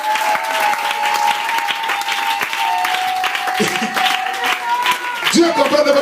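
A congregation at a Friday night church vigil claps and cheers for Jesus Christ, a steady dense wash of applause with voices and a sustained tone running through it, swelling louder near the end.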